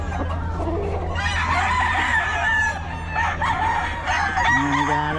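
Roosters crowing and clucking at a Bocaue market, several overlapping crows from nearby birds, with a loud long crow toward the end above background chatter.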